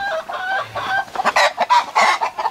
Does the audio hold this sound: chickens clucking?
yes